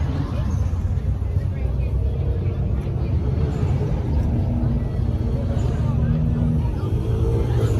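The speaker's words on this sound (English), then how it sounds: "Hopefully all these people that are revving up are fucking leaving." Car engines rumbling and revving at a crowded car meet, a loud, dense low roar mixed with a crowd murmuring in the background.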